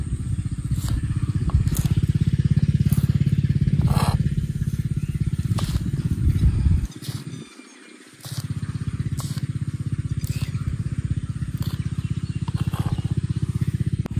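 A water pump motor runs in farm fields with a loud, continuous low drone and hum. A short dropout breaks it near the middle before the running sound resumes. Faint clicks and outdoor noise sit over it.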